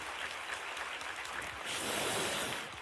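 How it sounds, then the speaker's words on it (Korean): A church congregation applauding to encourage the children, a steady wash of many hands clapping throughout, swelling slightly louder toward the end, with no talk over it. "우리 자녀들 향해서 한번 큰 박수로 한번 격려할까요?"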